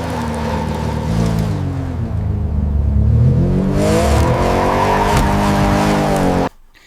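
A car drives in a computer-generated scene with a robot, a steady loud engine roar that rises in pitch as it revs, with some tire hiss, before cutting off abruptly near the end.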